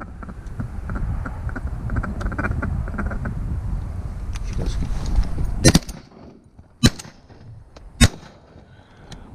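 Loud flapping and quacking of ducks overhead in Oregon fades out, then three sharp, booming shotgun blasts ring out, spaced about a second apart.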